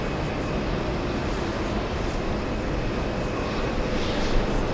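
A JetBlue Airbus A320 at JFK gives off a steady, fairly faint wash of jet engine noise from some distance, with no voices.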